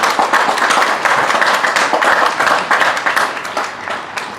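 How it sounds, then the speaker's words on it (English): Crowd applause at an outdoor Memorial Day ceremony at a mansion in DeKalb, Illinois: loud, sustained clapping from many people, dense and even before thinning slightly at the end. "let's give these people from these organizations a nice round of applause"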